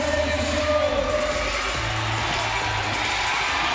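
A crowd at a CrossFit regional competition event cheers and yells steadily, a loud continuous roar of voices with whoops throughout.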